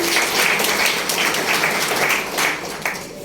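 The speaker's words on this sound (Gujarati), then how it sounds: "દરેક મિત્રો માટે પહેલા જોરદાર તાળી થવી જોઈએ." An audience applauding together in a hall at a speech event, a dense, sustained wash of many hands clapping at moderate loudness that thins slightly toward the end.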